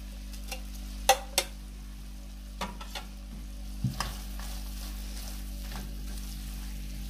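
Chicken filling stirred with fresh coriander in a sizzling pan, heard as a few sharp scraping clatters spread over a faint, steady background hum, close and quiet, with no talk.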